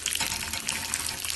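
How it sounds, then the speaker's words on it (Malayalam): Cashews and raisins sizzle and crackle in hot ghee in a pan, a steady bright frying hiss with faint stirring, close and moderately loud. "ഇളക്കി വറുത്തെടുക്കാം."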